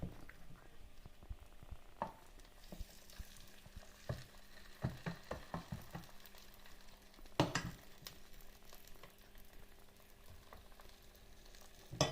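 Syrniki batter with nuts sizzles and crackles softly in a hot pan, punctuated by scattered clicks and utensil taps, no talking.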